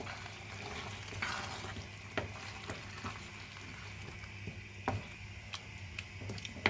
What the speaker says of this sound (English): just give it a nice mix